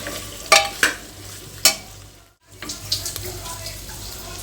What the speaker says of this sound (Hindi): पोर्क का पूरा तेल निकलना स्टार्ट हो गया है